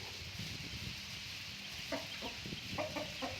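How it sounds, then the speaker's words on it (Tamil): A chicken clucks a few short times over a steady noisy background, the clucks coming in a quick cluster near the end. "அந்த கோழி தான் அது. இங்கே இப்போ கோழி அறுக்க போகிறோம்."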